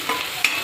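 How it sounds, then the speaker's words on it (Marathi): Onion sautéing in a pan for a potato gravy bhaji, a soft steady sizzle with a couple of brief stirring scrapes, close and alone without talk. "आता त्याच्यात कांदा घालूया. कांदा छान परतून घ्यायचा आहे."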